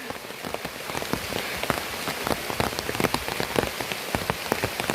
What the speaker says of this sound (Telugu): చూడండి వర్షం అన్నమాట.